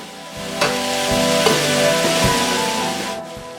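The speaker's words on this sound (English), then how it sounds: "Sizzle it up." Colorful vegetables for a chicken curry sizzle loudly in hot oil, a close, continuous hiss broken by a few stirring scrapes and clatters in the pan.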